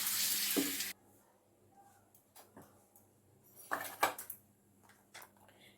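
Spice-coated hilsa fish hitting hot oil in a pan, a loud burst of sizzling frying that cuts off after about a second, followed by quieter scattered crackles and a few short clattering kitchen sounds.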